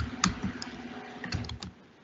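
Quiet, irregular keystrokes on a computer keyboard with a few sharper clicks in short bursts, nearby in an office setting with no talking.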